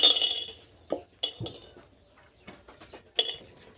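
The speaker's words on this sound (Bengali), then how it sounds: "এরপর দিয়ে দিচ্ছি কড়াইয়ের মধ্যে আমন্ড" Almonds tipped into a kadai for frying, giving a few sharp clinks and rattles against the metal pan, spaced out with quiet gaps between them.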